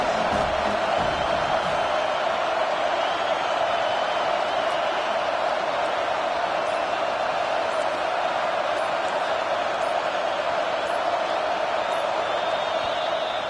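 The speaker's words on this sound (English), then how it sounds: "listen to this crowd roar" A stadium crowd at a Notre Dame football game roars in a dense, steady wall of sound that holds at the same level from start to finish, with no single voice standing out.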